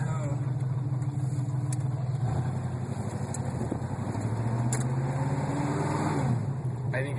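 A 1982 Mercury Capri RS with a detached muffler idles and rumbles steadily with a loud, raw low-pitched exhaust drone, while voices talk over it.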